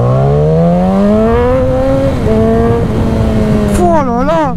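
A BMW S1000R motorcycle accelerates hard, its engine note climbing loud and close through rising revs and gear changes, then wavering as it revs again.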